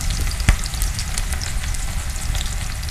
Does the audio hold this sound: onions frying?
yes